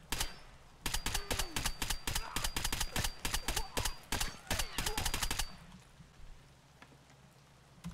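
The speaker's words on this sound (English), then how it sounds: "And then I get shot in the back" Rapid bursts of gunfire in the shooter game Escape From Tarkov, a dense run of sharp cracks for about five seconds that then stops abruptly, leaving quiet ambience.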